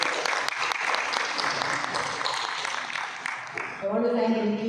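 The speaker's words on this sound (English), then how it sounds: "Let's give everyone a big round of applause." Sustained crowd applause, dense and loud, with many hands clapping together before it tapers and gives way to a voice at the end.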